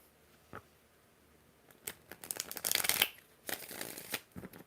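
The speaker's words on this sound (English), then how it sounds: "Two more shuffles for your Majesty" Tarot cards are shuffled close by and quietly in a few riffling, flapping bursts that build toward the middle, with no talk.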